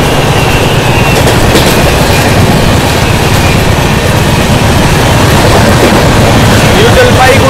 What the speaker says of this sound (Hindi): New Jalpaiguri New Delhi express.